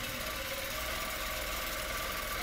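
Statler longarm quilting machine stitching a quilt, a steady, continuous motor hum and rapid mechanical chatter, close and even throughout with no talk.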